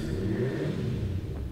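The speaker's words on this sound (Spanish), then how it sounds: "el de la moto comenzó otra vez" A motorcycle revs outside, heard as a steady low engine rumble and drone that holds without a break, somewhat muffled and distant.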